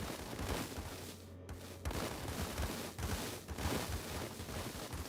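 Rapid bursts of sharp cracking pops fire off in dense, irregular volleys, sounding like gunfire, fairly loud and continuous for several seconds with no talking.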